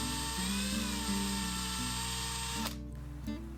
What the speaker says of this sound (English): Drill some new holes.